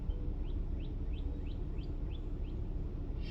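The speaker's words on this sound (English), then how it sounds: "I hear the birds chirping and everything around me." Outdoor birdsong near a green mountain: a steady series of about eight short, high chirps at an even pace, set against a constant broadband background of wind or ambient noise.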